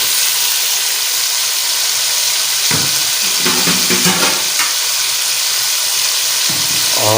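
Chopped onions tumble into a pan of frying boneless chicken, setting off a burst of sizzling and stirring clatter. Steady hiss underneath, close and fairly loud, with no talking.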